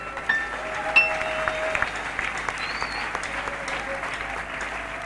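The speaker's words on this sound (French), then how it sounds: "Est-ce qu'on peut encore l'acclamer?" Church congregation at a Congolese worship service applauding steadily, a dense patter of many hands clapping at moderate volume with scattered whistles and cheers over it.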